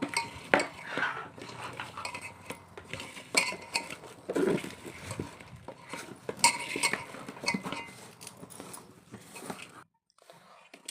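Cauliflower batter with garam masala is stirred in a bowl, giving a steady run of scraping and clinking utensil-on-dish sounds up close, with a brief near-silent gap toward the end.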